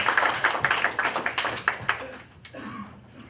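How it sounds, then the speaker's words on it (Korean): A brief round of clapping from a small group at a meeting at the Jichuk rail vehicle depot in Korea, close and lively, fading out after a couple of seconds into quieter background. "힘찬 박수 부탁드립니다"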